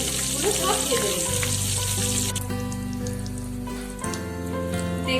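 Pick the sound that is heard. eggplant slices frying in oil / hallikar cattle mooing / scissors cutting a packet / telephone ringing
eggplant slices frying in oil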